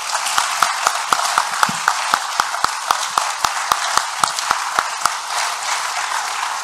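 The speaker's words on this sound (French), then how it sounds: "peut-être une main d'applaudissement pour nos panélistes" An audience at a French-language forestry forum on remote sensing applauds its panelists, with sharp, evenly spaced claps sounding almost in unison for several seconds before loosening into a softer, ragged patter.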